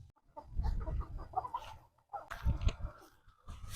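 Rhode Island Red roosters and native chickens on a farm cluck and squawk in two clustered bursts with a brief lull between, close and moderately loud, against faint background noise.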